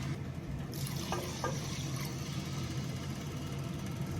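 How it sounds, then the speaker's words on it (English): Water added to a one-pot chicken rice dish, a steady pour and splash over low kitchen background, continuous and fairly close, no voices. "Add some water."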